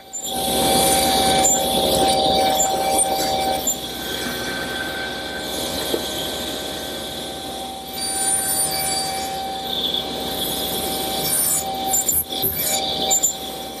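A table saw blade raised 3/16 inch nibbles away wood on each face of a tenon, a loud, steady whirring cut that swells and eases as the piece passes over the blade.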